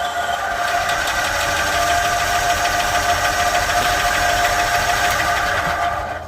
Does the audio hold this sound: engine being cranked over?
yes